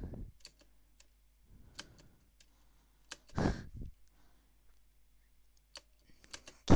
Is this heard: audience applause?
no